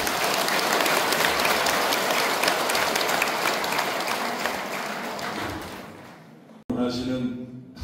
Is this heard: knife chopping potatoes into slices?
no